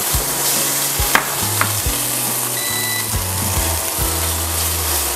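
Onion sautéing in butter in a pan, a loud close sizzle with repeated low thuds and scrapes of a utensil stirring at a steady pace, no voices.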